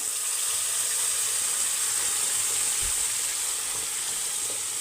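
Ground paste bubbles and sizzles in a wide pan on a stove that has been switched off, a constant close hiss with small pops and no talk.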